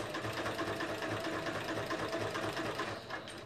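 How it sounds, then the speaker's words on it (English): A sewing machine runs steadily while stitching through a quilt, a continuous close, loud mechanical whir with a rapid needle rhythm that holds for the whole stretch and eases slightly at the very end. "I just pull out the clips as I sew"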